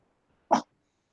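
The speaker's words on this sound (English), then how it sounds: "Don't you bark at me." A dog lets out one short, sharp bark, close and isolated against near silence.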